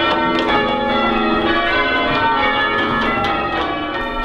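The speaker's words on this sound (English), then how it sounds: "The bell ringers at St Andrews will be ringing the bells in what will be a normal peal." Church bells at St Andrews ring a peal, with overlapping resonant strikes sounding in a steady sequence as long ringing tones blend together at a constant, fairly loud level without any speech.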